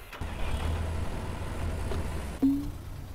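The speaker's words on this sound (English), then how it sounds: "first we will drive our tractor back and hook up to the plow" A tractor engine in the farming game Farmer's Dynasty runs at a low idle, then gives a brief louder surge near the end like the engine catching and starting, with no voices.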